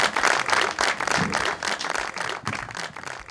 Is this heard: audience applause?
yes